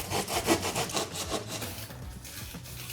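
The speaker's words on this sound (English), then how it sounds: "I literally bought a saw so I can cut her butt off to make it fit" A handsaw rasps back and forth through a dress form in steady, close strokes, each cut a loud scraping rush, the rhythm slowing and softening toward the end.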